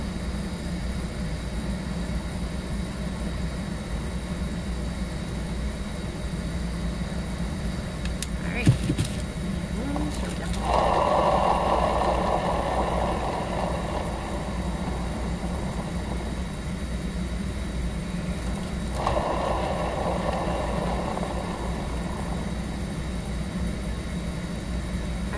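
A paint spinner whirs steadily with a low motor hum while spinning a paint-poured ceramic tile coaster, with two louder bursts of airy whooshing as it speeds up, and a voice talking at times.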